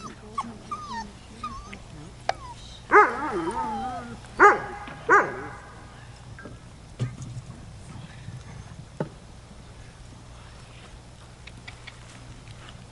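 Several excited dogs let out a few short, loud whimpering yelps and bark-like cries in a burst early on, then fall back to faint shuffling and a low steady hum.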